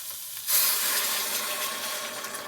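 Water is poured into a hot soup pot holding ham, salt and pepper, bursting into a loud, close sizzle and hiss of steam that stays bright and steady without voices.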